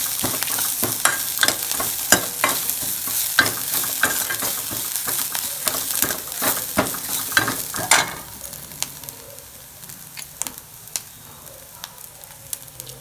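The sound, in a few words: pepper and cumin frying and stirred in oil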